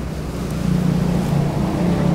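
Ocean waves seen from the Yui parking area on the Tomei Expressway, a steady low rushing wash of surf that swells slightly midway, heard at a distance with no talking.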